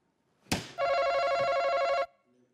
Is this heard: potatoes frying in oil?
no